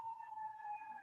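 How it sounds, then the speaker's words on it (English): A faint, steady emergency vehicle siren drifts in from outside at a distance, holding a sustained pitch with no talking over it. "I'm sorry about the sirens."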